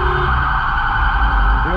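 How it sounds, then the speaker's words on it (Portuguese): Police car siren wailing during a police operation in a city's north zone, a loud continuous tone close by, with a brief horn-like swoop near the end. "se a sirene já tá ligada"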